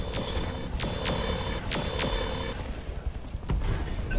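Mechs in the Roguetech BattleTech game fire weapons in a dense barrage of repeated bursts. Sweeping shots ring out over a constant loud mechanical rumble, with no talking.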